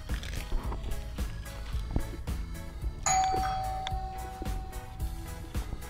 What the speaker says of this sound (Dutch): Bel doet het.